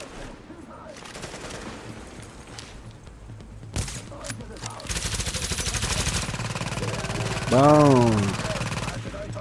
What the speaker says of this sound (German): Da scheint ein gutes Maschinengewehr zu haben, ne?